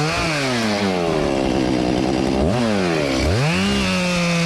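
A gas chainsaw cuts into a silver maple, roaring steadily at high revs, then dips and surges twice as the throttle drops and climbs again, loud and close throughout.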